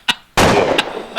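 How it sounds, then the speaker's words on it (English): Gunshots in the background, a short sequence of four sharp loud cracks with a longer crackling blast among them, with no talk over them. "That's a lot of gunshot."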